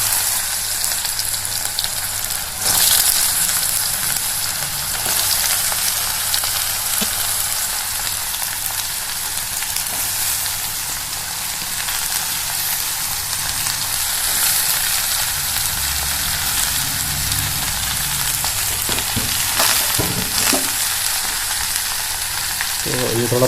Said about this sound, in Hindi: अब मैं इसमें ये अपनी घर की जो हम लौकी है इसको डालेंगे।